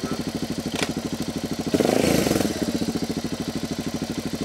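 A Suzuki motorcycle with a worn clutch idles with a steady, close, throbbing pulse, broken by a short, louder surge and clunk near the middle as a gear is engaged.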